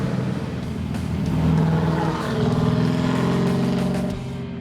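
An OBS Chevy truck with a 632 cubic-inch big block and 6-speed manual cruises along, a deep steady engine drone rising and falling slightly with throttle, loud and close without voices.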